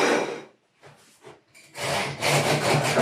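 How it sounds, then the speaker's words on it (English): A knife sawing through freshly baked soda bread with a crisp crust, making loud, scratchy back-and-forth strokes: one short stroke, a quieter pause, then a sustained rasping cut that continues to the end. "Cut the slices up ready."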